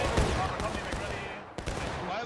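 Musket volley fire in the War of Rights video game: a ragged burst of many shots cracking together at once, followed by a second crack, with shouting voices under the gunfire.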